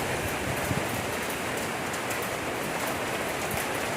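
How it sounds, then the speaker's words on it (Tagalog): Heavy, wind-driven rain pours down outdoors in Taiwan, a dense, steady hiss of drops hitting surfaces with no break and no voices. "Malakas yung ulan."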